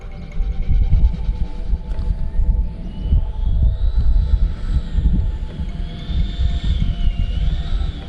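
Freewing F-5N Tiger II 80mm electric ducted-fan RC jet throttling up on landing approach, a steady whooshing fan roar with a rising whine, heard from the ground amid wind and turbulence noise.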